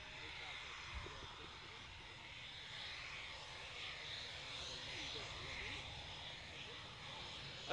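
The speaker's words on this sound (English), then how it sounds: "The EF-2000 backtracks the runway." A Eurofighter EF-2000 Typhoon jet taxiing along a runway at an air show gives a steady, distant engine roar and whine that holds even throughout, with no voices heard.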